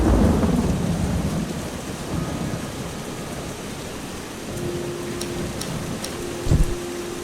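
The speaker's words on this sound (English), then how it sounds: "Alright, it's raining." Video game thunderstorm: steady rain hisses throughout with low rumbling thunder, a louder thunder crack near the end, and a faint tonal hum entering partway through.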